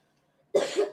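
A single person gives one short, rough cough close to the microphone after a stretch of near silence, a brief two-part burst that is over in under half a second.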